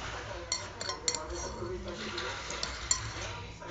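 A spoon clinks against a cup while stirring chocolate milk for a baby, light scattered taps and scrapes repeating at close range, with someone talking throughout.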